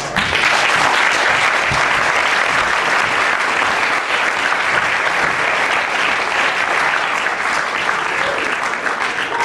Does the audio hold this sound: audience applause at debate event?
yes